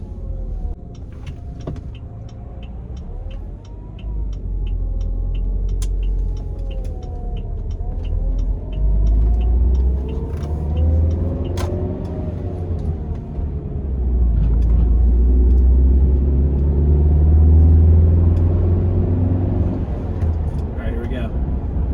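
A Saab 9-5 with new ignition cassette and spark plugs pulls hard in third gear, the engine note climbing and swelling into a loud sustained roar, with brief clicks and cabin noise and no talk.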